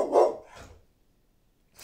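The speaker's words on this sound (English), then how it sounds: "Oh, you might hear my doggy. He likes to bark." A pet dog gives a loud bark up close, followed by a softer second bark, then silence before another faint sound starts at the end.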